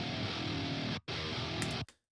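Two distorted metal rhythm guitar takes, one panned hard left and one hard right, thick sustained chugging that stops abruptly twice, close and loud with no voices.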